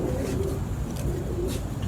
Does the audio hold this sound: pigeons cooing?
yes